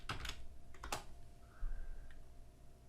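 Several quick key presses on a computer keyboard come in two small bursts, close and quiet in an otherwise hushed room.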